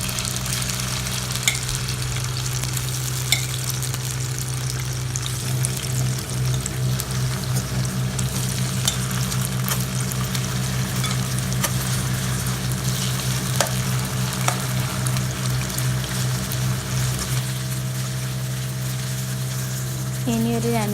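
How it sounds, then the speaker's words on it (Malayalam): Cauliflower pieces deep frying in oil give a steady, loud sizzle and bubbling that runs throughout, with faint clinks and stirring sounds and no talking. "എന്നിട്ട് ഫ്രൈ ചെയ്തെടുക്കാം. നല്ല ഡീപ്പ് ഫ്രൈ ചെയ്യണം."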